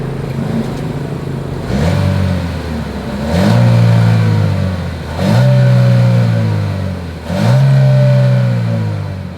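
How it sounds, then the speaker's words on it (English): A 2023 Chevrolet Equinox exhaust as the engine is revved four times in succession, each rev rising and falling, loud and close with no talk. "is that exhaust clip"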